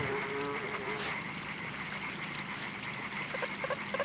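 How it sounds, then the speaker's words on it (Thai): A fly buzzes faintly and continuously over a dense, croaking and chirping ambient background, with soft clicks toward the end. "เสียงแมงวัน"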